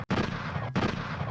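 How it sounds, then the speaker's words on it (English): Gunshots played as a sound effect: two heavy booming blasts in quick succession, each ringing on with a dense, loud, sustained roar. "so I'm gonna hit the gunshots"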